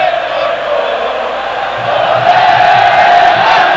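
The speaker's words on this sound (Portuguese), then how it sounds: "Olha a torcida do Verdão." Palmeiras supporters in a packed Morumbi stadium crowd cheering at a 1993 Brazilian championship semifinal football match against São Paulo, a loud sustained roar that swells toward the end.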